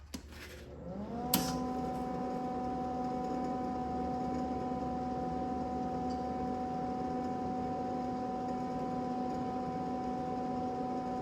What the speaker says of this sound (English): you're gonna hear the welder turn on now